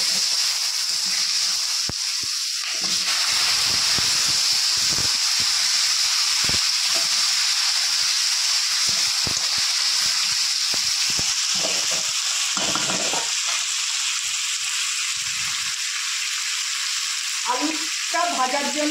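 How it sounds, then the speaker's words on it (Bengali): Cut potatoes hit hot oil in a pan already spiced with dried red chillies, bay leaves and nigella seeds, giving a loud, steady sizzling hiss with scattered clicks and stirring scrapes throughout. "এবার দিয়ে দেব কেটে রাখা আলু।"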